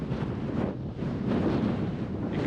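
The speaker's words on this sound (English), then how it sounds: "Beautiful sunny day, but the wind is strong." Strong wind gusting over an open grassy mountain ridge in Wales on a sunny day, with gusts measured above 60 mph, roaring and buffeting steadily against the microphone without pause.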